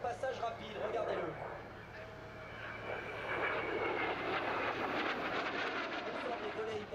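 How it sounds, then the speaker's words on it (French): Fouga jet aircraft making a fast pass at an air show in Villeneuve, a steady roaring engine rumble that swells as it passes, heard under an announcer's commentary. "Le Fouga de votre droite vers votre gauche pour un passage rapide, regardez-le."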